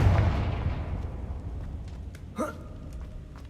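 Confringo blasting spell explosion in Hogwarts Legacy: a loud booming blast at the start that decays into a long fading rumble, followed by a brief rising whoosh-like effect near the end.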